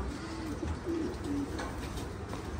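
Pigeons or doves cooing softly in an outdoor bird enclosure, a few low repeated coos over steady background noise, with no talking.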